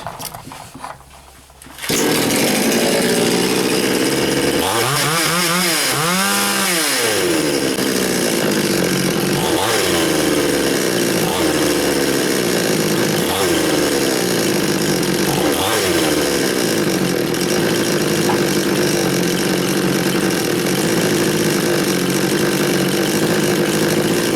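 A Chinese 4500/5200 petrol chainsaw with a no-start fault fires after a quiet moment, revs up and down, then settles into a loud, continuous buzzing run close by.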